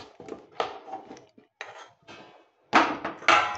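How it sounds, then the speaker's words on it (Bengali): A metal kadai (wok) is set down on a home stove, a few close clanks and scrapes of metal on the burner grate with short pauses, the last two knocks the loudest. "এবার আমি কড়াই বসিয়ে দেবো।"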